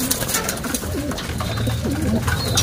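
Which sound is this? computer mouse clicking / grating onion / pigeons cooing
pigeons cooing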